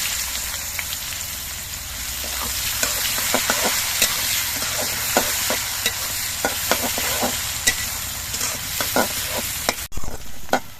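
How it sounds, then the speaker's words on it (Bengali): Chopped onions sizzle steadily in hot oil with panch phoron spices in a pan, while repeated sharp scraping taps of a stirring spatula punctuate the continuous frying hiss; no one speaks. "এবার এর মধ্যে আমি কোচান্ন পেঁয়াজগুলো দিয়ে দিচ্ছি"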